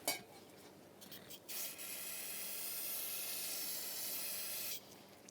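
Aerosol brake cleaner sprays in a long, loud steady hiss onto a front brake of a 2017-2023 GMC Acadia, starting after a few short bursts and cutting off near the end.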